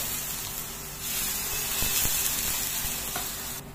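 Water sizzles steadily on a hot tawa under a kulcha over a low gas flame, a close, continuous hiss with a brief louder burst partway through, no one speaking.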